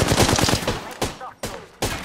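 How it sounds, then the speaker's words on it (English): Rapid automatic gunfire from the Apex Legends video game, a loud close burst of quick shots followed by three separate heavy single blasts at even intervals. "Opening fire."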